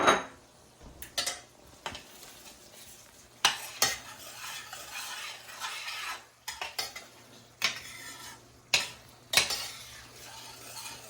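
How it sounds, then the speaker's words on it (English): Sausage added to a pan of peppers and celery for shrimp and grits brings repeated metal utensil clanks and scrapes against the pan over a soft sizzle, a dozen or so irregular knocks close by. "So I'm going to go ahead and add sausage."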